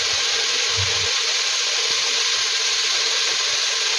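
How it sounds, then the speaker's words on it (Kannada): Roasted gram frying in oil with onion and tomato gives a loud, steady sizzling hiss that runs unbroken throughout, with no talk over it. "ಒಂದು ಸ್ವಲ್ಪ ಹುರ್ಗಡ್ಲೆನ ಹಾಕ್ತಾಯಿದ್ದೀನಿ. ಚೆನ್ನಾಗಿ ಎಣ್ಣೆಯಲ್ಲಿ ಫ್ರೈ ಆಗಬೇಕು."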